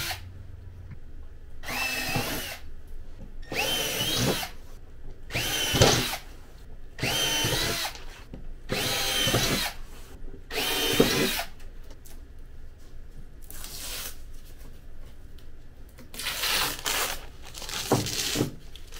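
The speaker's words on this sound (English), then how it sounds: "I'll drill a couple more holes here and we'll get it." A power drill bores a series of holes through a ski on an off-road logging trailer, running in about eight separate bursts of a few seconds each, loud and close, with brief quiet pauses between them.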